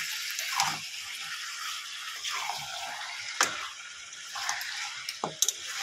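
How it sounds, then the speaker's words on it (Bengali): A little water poured into beef curry simmering in a pot gives a steady, fairly quiet hiss and wash, with a few soft knocks and clicks scattered through it and no talking. "একটু অল্প করে জল দিয়ে একটু ঢেকে দেবো।"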